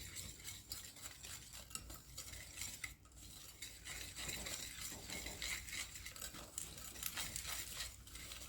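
A utensil stirs a mixture with beaten egg in a bowl, making steady rhythmic scraping and clinking against the dish, close and continuous, with no talking.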